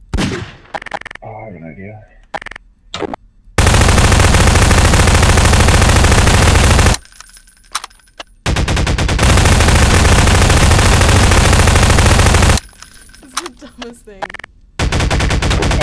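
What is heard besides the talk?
gunfire in the video game Garry's Mod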